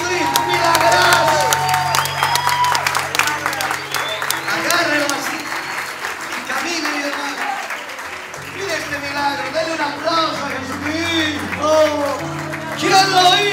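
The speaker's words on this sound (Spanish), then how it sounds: "¡Dale un aplauso a Jesucristo!" A church crowd applauds and cheers at a healing service, with loud sustained clapping, shouts and voices layered over a droning music backing and speech throughout.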